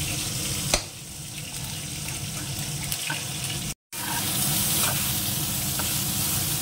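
Vegetables fry steadily in a pan, giving a dense, continuous close sizzle with a few faint clinks and a brief cut midway, no voices over it.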